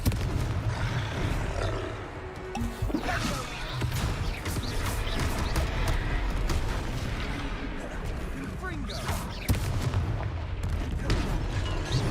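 In the Hogwarts Legacy video game, Confringo fire-blast spells go off as loud, dense booms and crashes in quick succession, with a voice speaking over the continuous battle din.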